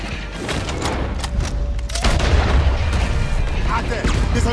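Gunfire from a tower in Red Dead Redemption 2 rattles in rapid bursts and booms, growing louder and denser midway, under shouting game voices.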